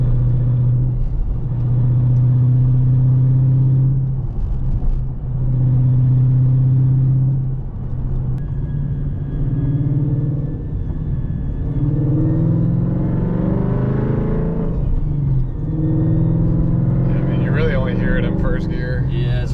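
A Ford Mustang S197 pulls away in first gear at low speed in a parking lot, its engine droning steadily with a jerky pedal and slight revving, while someone talks over it.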